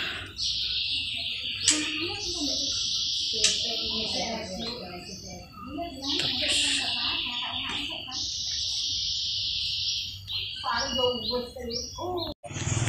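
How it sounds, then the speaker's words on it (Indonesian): A red-eyed albino magpie robin sings close by in a bird breeding yard, repeating bright whistled phrases and chirps in bursts, with someone talking underneath and a few clicks. "ini burung nih guys"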